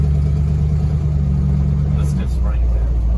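Carbureted small block V8 in a K5 Blazer idling nearby with a loud, steady low rumble and a slight shift near the end, with people talking over it.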